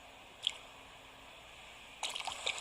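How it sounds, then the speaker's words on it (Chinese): Fish splashing onto the line while fishing in the Animal Crossing video game: a single small watery blip, then a brief, brighter splashing burst near the end, fairly quiet against a soft background. "然后听到水花的声音就可以拉了"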